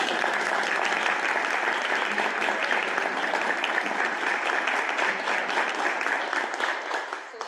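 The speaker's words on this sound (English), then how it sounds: "May I have a round of applause, please?" Audience applause at a school committee meeting, dense continuous clapping from many people that stays even for several seconds before starting to fade.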